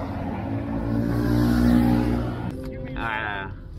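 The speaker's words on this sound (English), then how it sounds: "En Volvo." A Volvo car drives past on a street in Bangkok, its engine hum swelling to a peak before fading away. A brief higher-pitched noise follows near the end.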